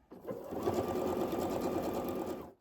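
A sewing machine stitching the outer pieces of a moving blanket cover, running as one steady, fairly quiet mechanical whir for a couple of seconds before stopping.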